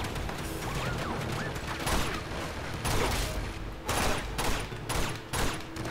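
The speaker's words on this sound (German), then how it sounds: "Wie viele Schüsse willst du noch abhaben?" Gunfire in the video game Uncharted: The Nathan Drake Collection, sustained rapid bursts of shots and impacts during an intense combat fight, loud and continuous with brief pauses between volleys.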